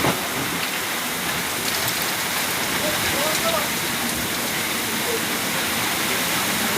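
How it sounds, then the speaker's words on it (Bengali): Heavy rain and strong wind storm sweeping over a narrow river, a steady dense roar of rain and gusts that stays loud and constant throughout without pause. "এত হাওয়া হচ্ছে, এত ঝড় হচ্ছে"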